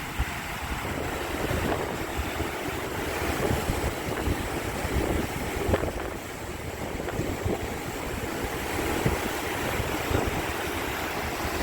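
Steady low rumble of a catamaran moving slowly along a river, with wind buffeting the microphone and a soft wash of water throughout.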